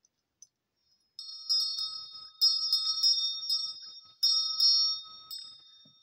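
Small bells are rung for a tarot reading, with bright metallic chimes in three separate bursts of shaking. Each burst rings out clearly and decays into silence, with no speech.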